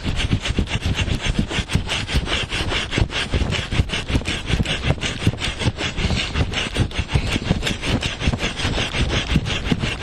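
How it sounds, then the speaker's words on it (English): A Bahco Laplander folding saw rasps through wood outdoors in fast, even strokes, close and loud, with a steady rhythm sustained throughout. "The saw that I have is a Bourgault Laplander."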